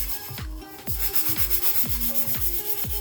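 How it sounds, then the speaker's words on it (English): A wet sanding block scuffs a tumbler in quick back-and-forth strokes, a close, rhythmic gritty rubbing repeated several times, with no talking. "I start with a sanding block, and I wet my sanding block, and then I start to stuff the tumbler"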